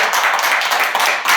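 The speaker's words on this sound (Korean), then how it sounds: "오늘 오신 분들 다시 한번 박수 한번 치도록 하겠습니다" Clapping from a gathering of Gwangyang subcontractor labor union members meeting about their employee-status lawsuit against POSCO, a brief steady burst of many hands filling the room.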